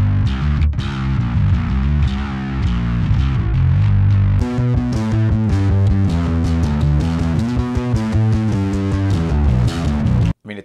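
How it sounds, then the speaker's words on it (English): An Ernie Ball Music Man DarkRay bass plays a punchy riff through heavy fuzz and distortion, with dense, gritty, sustained notes played loud and continuously until a brief cutoff at the end. "I feel like it loves just slamming into distortion and fuzz like this"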